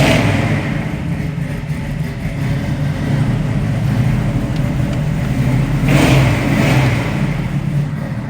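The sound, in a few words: 1968 Pontiac Firebird 400 engine started and revving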